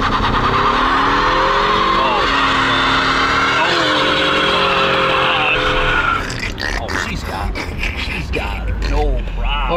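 A Ford Mustang EcoBoost on a race track revs hard and spins its tires, its engine droning loudly before giving way to scrabbling, squealing tire noise, with people talking over it.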